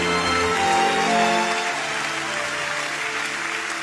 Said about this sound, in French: acclame Jésus, acclame Jésus